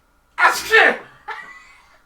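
A person imitates a sneeze with a loud, close, breathy burst, then a shorter trailing exhale.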